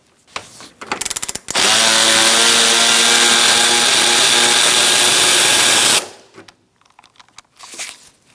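A power tool spins out a bolt while replacing the AC condenser cooling fan on a 2002-2006 Honda CR-V, a brief buzzing burst then a loud sustained whir of about four seconds, followed by light clatter.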